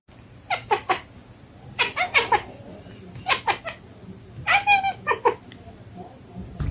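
A cat makes several short, trilling chirps in quick bursts, close by, with brief pauses between them over a faint background hum.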